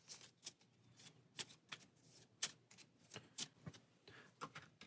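Playing cards being shuffled back into a deck during a Pathfinder Adventure Card Game session, a quick series of crisp riffling snaps and soft flicks up close, with no talking.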